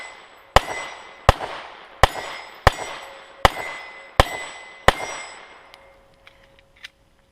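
A post-war Walther P38 German police surplus pistol fired seven times in a steady string, each sharp loud crack followed by a short ringing echo, with a faint metallic clink after the last shot.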